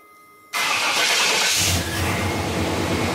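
After a quiet moment an engine cranks and catches, roaring loudly before settling into a steady, rumbling idle close by.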